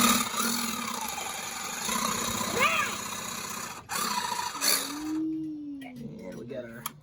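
A Sawzall reciprocating saw buzzes steadily as its blade cuts through a Halloween pumpkin, loud and close for several seconds before cutting out, while someone talks throughout.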